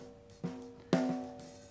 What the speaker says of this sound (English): we'll play you the top of the snare first